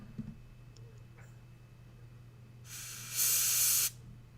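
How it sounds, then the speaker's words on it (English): Airbrush spraying red ink onto a Necron Overlord miniature, a soft hiss that swells in two stages over about a second and a half before cutting off, near and alone over a low steady hum. "Very, very delicately airbrushing some red ink"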